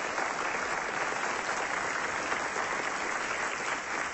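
A studio audience at the Swedish TV show Bingolotto claps steadily, a dense even patter of applause that carries on without pause throughout.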